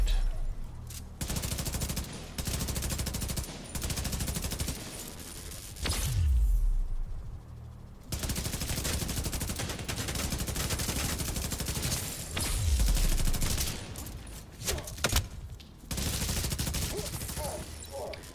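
An enemy turret in the video game The Division 2 fires long, loud bursts of rapid automatic gunfire, broken by short pauses and a few deep impacts, continuing nearly throughout.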